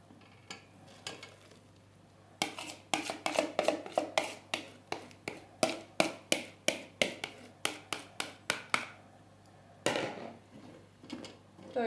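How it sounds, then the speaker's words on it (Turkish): Repeated rhythmic scraping taps of a metal spoon pressing pomegranate through a strainer, about a dozen regular strokes, close and fairly faint. "Böyle kaşığımızla bastırıp suyunun tenceremizin içine inmesini sağlayalım."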